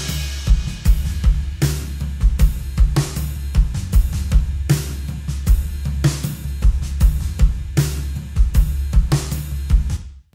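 A mixed music passage with punchy drums and a full low end, run through a FabFilter Saturn 2, Pro Q3 and Pro C2 plugin chain with gentle compression copying a Channel V; loud, steady and rhythmic with no voices.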